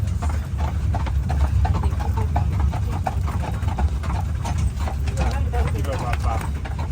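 Horse hooves clip-clop steadily while pulling an Amish carriage, a rhythmic series of close, even hoofbeats over a constant low road rumble with voices in the background.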